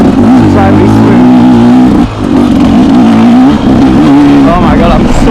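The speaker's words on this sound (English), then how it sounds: "Now I'm pulling gears to try and be smooth." Dirt bike engine revving hard through gear changes while riding a muddy rutted track, loud and continuous with rising and falling pitch as gears are pulled, up close and steady.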